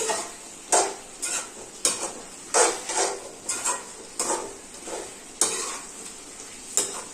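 Masala being stirred into chicken gravy in a pan, with repeated scraping stirs and a steady oil sizzle underneath, close and fairly loud, with no talking.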